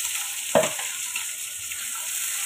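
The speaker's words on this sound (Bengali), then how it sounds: "এটাকে একটু pinkish colour, golden pinkish colour আসা পর্যন্ত একটু ভাজতে থাকি" Onion, garlic and green chilies frying in oil for hilsa bhuna, a soft steady sizzle with one brief stir or scrape near the start, close and alone without talk.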